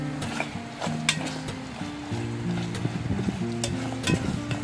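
A spoon stirs Bicol Express simmering in a rice cooker, giving close scraping and sizzling strokes in an uneven rhythm, with a steady low hum running underneath throughout.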